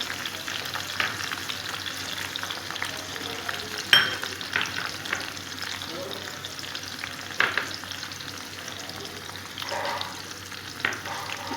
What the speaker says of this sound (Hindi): अब हम इसमें टमाटर डालेंगे, और बाकी सारे मसाले भी ऐड कर देंगे।